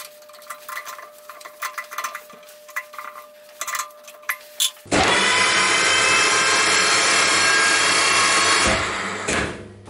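Intos FNGJ20 tool room mill spinning at 400 RPM on its normal gear setup, a loud steady mechanical whine and gear hum that starts abruptly after scattered clinks and runs continuously before fading at the end.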